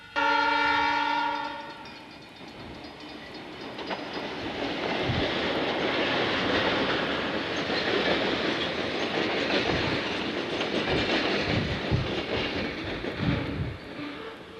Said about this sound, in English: since the train's coming through, we'll get a shot of it